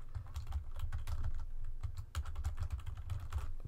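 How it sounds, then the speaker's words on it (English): Close, steady typing on a computer keyboard, a dense run of quick key clicks with a low thumping undertone lasting the whole stretch, no voices. "They have to type their answer"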